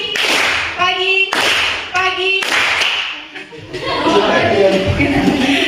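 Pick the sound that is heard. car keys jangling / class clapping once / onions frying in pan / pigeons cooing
class clapping once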